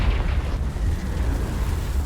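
Confringo fire spell exploding in Hogwarts Legacy, a loud, sustained rumbling blast with dense low-end roar that holds steady for about two seconds, alone with no talk.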